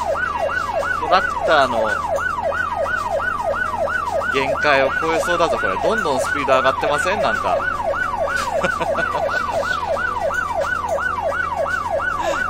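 A police car siren wails in a steady, rapid up-and-down cycle throughout a chase with a tractor in the game My Summer Car. A player talks over it, with engine noise underneath.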